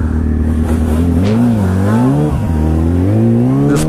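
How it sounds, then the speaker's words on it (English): Motorcycle engine revving hard on a wet road during a rolling burnout, harmonic engine tone rising and dipping with throttle, loud and close, with spray-like hiss over the top. "Just broke my tires loose right there."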